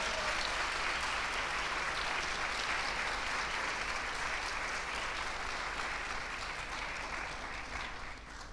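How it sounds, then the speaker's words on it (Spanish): A church congregation gives sustained, loud applause to the Lord, a dense and even roar of many hands that holds steady throughout and eases slightly at the very end. "Dale fuerte el aplauso al Señor."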